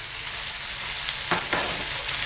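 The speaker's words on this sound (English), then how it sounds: "we're going to keep, again, frying this around another 3 to 4 minutes, stirring pretty much all the time" Chopped onions sizzle and fry steadily in a pan for a spicy Jamaican-style chicken curry, with a few scraping stir strokes partway through; close, constant and fairly loud, with no talking.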